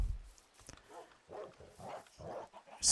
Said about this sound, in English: Some dogs here.